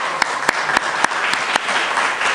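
A church congregation gives applause of encouragement for its youth group, a lively, fairly loud round of clapping with a few sharp, distinct claps standing out.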